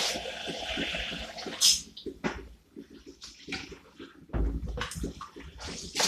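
Rice being rinsed under running water in a kitchen sink for a vegan kontomire stew meal, with splashing and sloshing water that starts and stops in several bursts at close range.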